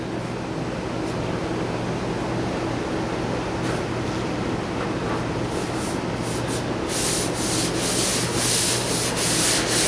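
Steady dry rubbing of 1500 grit sandpaper over painted paint, a continuous close scraping texture with hissing bursts toward the end, no voices.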